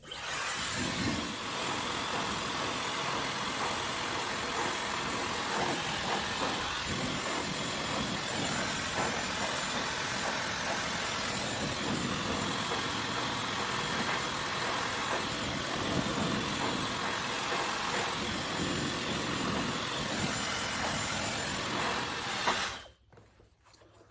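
A hair dryer with its nozzle removed blows hot air onto hair extensions at the base of the weft, making a loud, steady whooshing roar for about twenty-three seconds before it abruptly shuts off.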